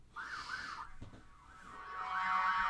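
A fire engine's wailing siren rises and falls in smooth sweeps, fairly distant and moderate in volume, with a brief thump partway through.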